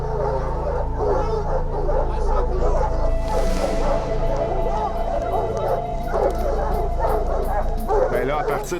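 Hunting dogs bark and yip steadily at a cougar up a tree, loud and close, with people talking throughout underneath the barking.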